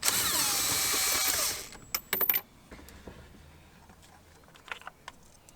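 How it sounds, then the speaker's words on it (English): A power tool whirs steadily for about two seconds while loosening the steering wheel nut on a Nissan 350Z, followed by a few sharp metallic clicks and faint handling noises close by. "I'm gonna take the rest of the nut out."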